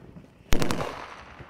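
On a military training ground, a sharp burst of gunfire hits loud and close, two or three rapid reports trailing off into a rumbling echo.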